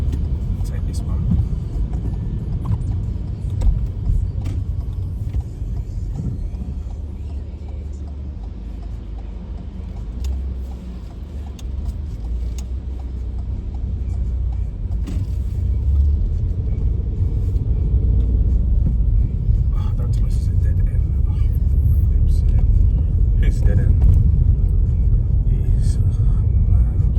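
Steady low engine drone and road rumble from a car in motion, filling the low end throughout with a slight rise in loudness toward the end; someone talks over it.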